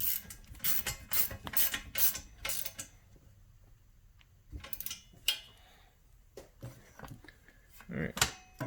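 Seat slider bolts are tightened down on Atomic Fab seat brackets, producing quiet, close ratcheting clicks and creaks in short irregular bursts separated by pauses.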